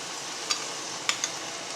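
Ginger garlic paste frying in a pan for a Tamil mutton uppukandam dish, giving a steady broadband sizzle with a few sharp pops and stirring clicks, close and alone without any talk.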